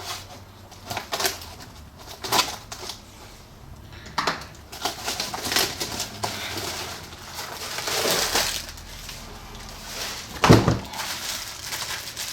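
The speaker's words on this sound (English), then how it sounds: "So if we cut open the tape" Packing tape is sliced and torn open on the cardboard box of an Artika Artemis light fixture, with scattered crackles, rustles and scraping bursts up close and one sharper crunch near the end.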